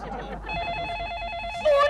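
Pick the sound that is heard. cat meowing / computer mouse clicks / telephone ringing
telephone ringing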